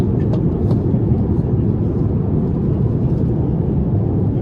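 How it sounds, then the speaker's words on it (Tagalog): A passenger airplane taxis after landing in Singapore, heard from inside the cabin as a loud, steady low rumble of engines and airframe throughout. "hindi pa nag-park yung aeroplano. Uma-under pa. Kakaland lang."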